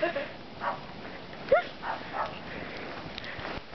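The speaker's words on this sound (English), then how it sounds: "You hear the dog?" A dog barks a few short, faint yips and barks outdoors in snow, spaced out over a quiet background with some soft movement.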